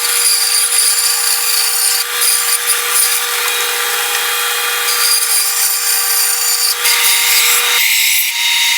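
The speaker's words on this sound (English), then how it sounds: "round over the tops on the bandsaw and sand them up a little bit on the sander" A bandsaw and sander run loud and continuously while shaping wood, a whining saw-like drone with slight shifts in pitch, alone with no voices.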